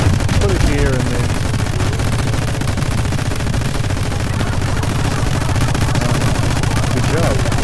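Rapid sustained gunfire from an auto-firing turret in a video game, loud dense automatic bursts continuing without pause, with faint voices underneath.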